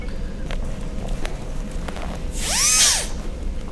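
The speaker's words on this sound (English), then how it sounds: "clean it up a little bit with the enhanced polishing point" A dental enhanced polishing point on a handpiece runs against a composite filling, one short high whine that swells and fades under low background noise.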